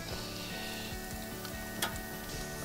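Butter and blue cheese melting in a small pot on a barbecue, giving a steady low sizzle with soft crackles and one brief sharper pop partway through, close and alone.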